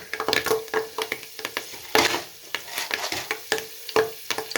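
Curry leaves, cloves, black pepper and cumin crackle and spatter in hot oil for a beef korma tempering, with a spoon stirring and scraping in an irregular rhythm close by.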